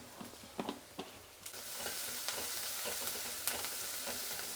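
Onions frying in a pan for a South Indian okra chutney, a soft steady sizzle with a few sharp clicks and scrapes of stirring, and no voices.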